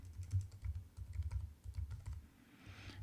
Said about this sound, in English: you can start typing like crazy all you want